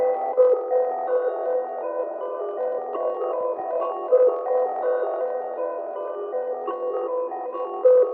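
A pitched-up melody sample processed with a stock Portal preset bounces along in a band-limited, radio-like tone, with steady rhythmic flutter and no voices over it.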